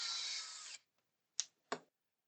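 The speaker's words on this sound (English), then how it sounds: "I'm going to be attaching this with C screws" Small screws driven into a 1:8 scale 1969 Ford Mustang Mk 1 model car by an electric screwdriver: a brief whirring run, then two quick faint bursts, quiet and close with no voice.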